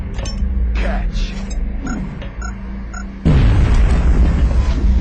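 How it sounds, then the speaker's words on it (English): An alien grenade blasts in XCOM Enemy Unknown, a sudden loud broadband boom midway that keeps roaring as a dense rumble to the end, after quieter game noises and voice beforehand. "We're going to try an alien grenade, see if it does any better."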